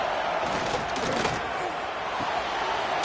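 Dense, steady roar of a packed football stadium crowd cheering for the Wisconsin Badgers, a loud continuous wash of voices with scattered thumps, close and enveloping throughout.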